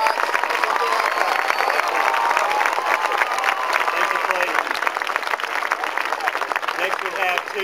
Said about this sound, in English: Y'all give them another round of applause.